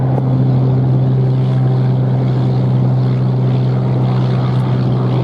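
An airplane takes off from runway 07 at Montego Bay airport in Jamaica, a loud steady engine drone with a strong low hum held throughout, close and unbroken.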